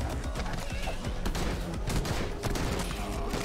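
Dense, continuous gunfire from the Madness: Project Nexus video game, many rapid overlapping shots forming a loud, chaotic battle din.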